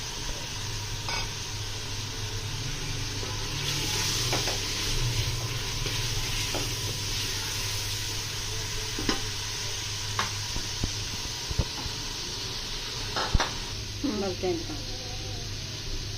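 Beef frying in a pot as chopped tomatoes are added and stirred, a moderate steady sizzle with scattered spoon scrapes and knocks against the pot, close by.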